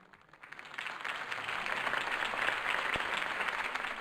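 Crowd applause after a campaign speech in the Batman Telltale series game, a dense wash of clapping that swells in over the first second and holds steady and moderately loud.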